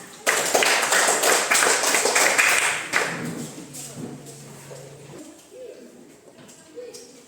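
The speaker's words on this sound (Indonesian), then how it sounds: "Tepuk tangan." Classroom of primary school pupils in Indonesia clapping together, a dense burst of applause for about three seconds that then thins out and fades, with a few faint voices afterward.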